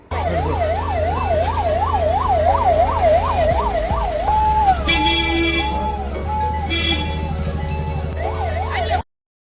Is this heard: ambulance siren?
yes